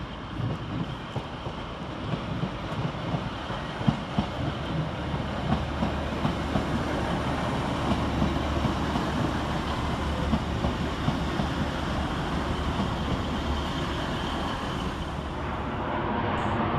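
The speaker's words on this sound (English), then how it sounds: "Up next for arrival is 150-111 and 150-115, working the 1433 Northern service from Manchester Piccadilly to Hazel Grove" A pair of Northern Class 150 diesel multiple units arrive at Stockport station, with steady rumbling and rail clatter building and holding throughout, mixed with light wind noise on the microphone.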